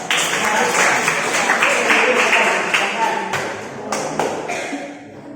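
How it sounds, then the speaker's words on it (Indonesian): A burst of clapping from students in a classroom, dense at first then thinning into scattered claps, with voices talking over it. "Makasih kalau mau tepuk tangan untuk Mamita."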